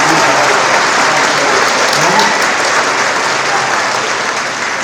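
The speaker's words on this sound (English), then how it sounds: "have a big round of applause for our school committee folks over there in front" A large crowd claps loudly and steadily at a technical school's senior awards night. The applause forms a thick, continuous wash of sound with no pauses.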